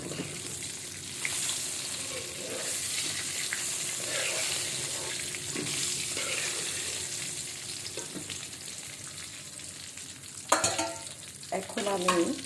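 Fish frying in a pan hiss and crackle at a steady, moderate level, with a few louder clatters of the pieces being lifted out near the end.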